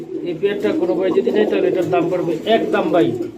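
Several Golla pigeons coo close by in soft, throaty, overlapping calls, with someone talking over them.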